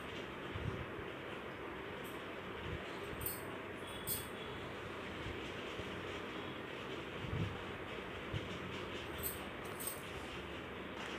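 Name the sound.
sewing machine stitching white cloth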